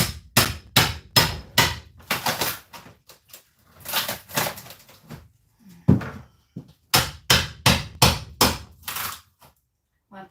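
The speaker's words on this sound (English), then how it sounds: "First I'll try the screwdriver." Sharp, hard knocks from hand work with a screwdriver ring out close by in quick rhythmic runs, separated by a few quieter scrapes and pauses.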